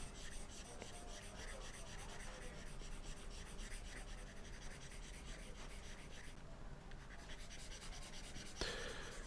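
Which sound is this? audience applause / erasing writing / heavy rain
erasing writing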